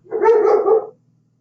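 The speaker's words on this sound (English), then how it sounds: "Sorry about my dog barking." A single short dog bark, close and fairly loud, then silence.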